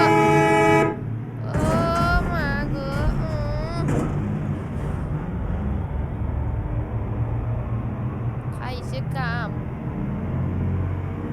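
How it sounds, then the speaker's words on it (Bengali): A bus horn in the Euro Truck Simulator 2 driving game on a Bangladesh map blares in a loud, wavering blast early on, then sounds again briefly near the end over a continuous engine rumble. "হর্ন বাজাবো নাকি? বাজাইতে রে।"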